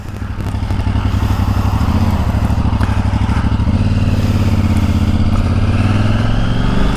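A motorcycle rides along a road with a loud, steady engine drone that builds slightly as it pulls away, close to the rider, with wind rush and no talk.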